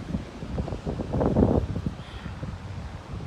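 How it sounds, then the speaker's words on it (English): Wind gusts buffet the microphone, producing a low rumbling roar that swells briefly and then eases. "It's really windy here."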